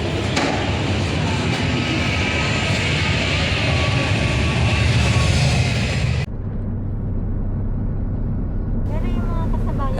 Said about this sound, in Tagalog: nanonood muna tayo ng mga nagtitake off na mga eroplano